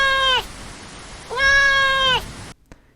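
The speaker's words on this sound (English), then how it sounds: "The cat meowed loudly" A cat meows loudly twice, a short call and then a longer drawn-out one, both clear and close over a soft background.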